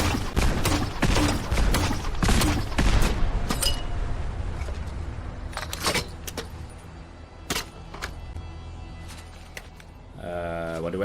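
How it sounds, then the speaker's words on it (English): In Fallout 4, a grenade launcher fires several sharp, loud blasts in quick succession, followed by a few sparser bangs and a short mechanical whir near the end. "An example, this grenade launcher."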